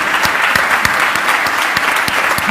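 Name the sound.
applause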